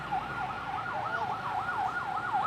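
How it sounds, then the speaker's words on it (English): An ambulance siren wails in a city street, its rising and falling tone cycling steadily and loudly throughout with no voices over it. "Maybe we just wait for this ambulance."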